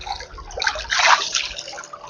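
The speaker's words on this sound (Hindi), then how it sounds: "कल कल करके आवाज़, और ये नदी चल रही है।" River water flowing and splashing over stones near Haidakhan Temple, a steady close wash with brighter gurgling bursts in the middle.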